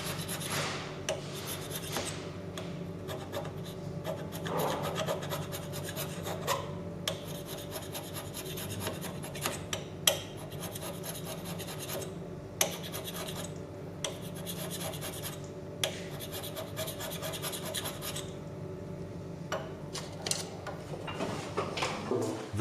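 Hand scraping of a 3000 mm linear guideway pair in metal with a very sharp scraper cutter taking light, thin chips: a steady, continuous rasping scrape with small repeated strokes and a few sharp clicks, close and alone.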